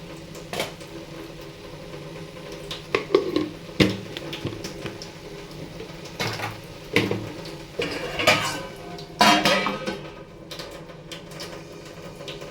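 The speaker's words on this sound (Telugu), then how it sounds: "ఇప్పుడు మనం మూత అనేది మళ్ళీ పెట్టేసుకుందాం" A lid clanks back onto a pot of curry, with several sharp metallic clinks and rattles scattered across the stretch, close and fairly loud against a quiet kitchen background.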